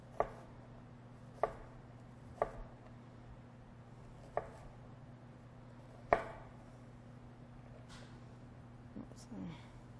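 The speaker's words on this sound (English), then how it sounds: "And then just nice small dices on this onion." A knife dices an onion on a cutting board during a cooking demonstration: five or six sharp, close chops at uneven intervals over a low steady hum.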